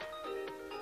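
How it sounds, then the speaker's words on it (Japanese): A mobile phone ringtone for an incoming call plays a short, bright melodic phrase of a few tones, clear and close. "突然の着信音。"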